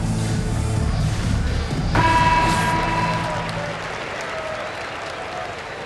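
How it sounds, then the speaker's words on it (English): Arena crowd at a 76ers home game against the Wizards applauding the 76ers, a broad steady wash of clapping and crowd noise with a tonal arena sound briefly on top, fading slightly toward the end. "Nice round of applause for your 76ers"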